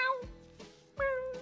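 A person imitates a cat with two short, close, moderately loud vocal meows, separated by a brief pause.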